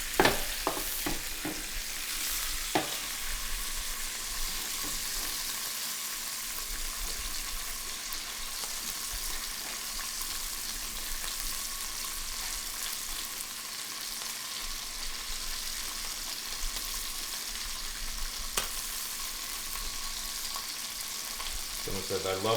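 Thick steaks searing in a pan, giving a steady broadband sizzle that carries on for a long stretch with a few clunks and taps near the start, close and constant.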